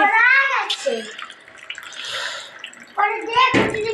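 Water runs and splashes as a child's hands are washed indoors, a soft continuous flow heard between close voices talking.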